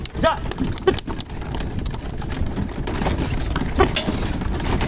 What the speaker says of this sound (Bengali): ঘোড়াটা খুব সুন্দর করে দৌড়াচ্ছে।